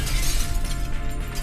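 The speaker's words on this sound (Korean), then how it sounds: "헐크는 천장을 박살내고 연구진들을 잡히는 대로 던져버린 후" In a movie scene, the Hulk smashes through the ceiling of a secret government research facility, producing a dense, loud, continuous roar of crashing and shattering debris with no speech.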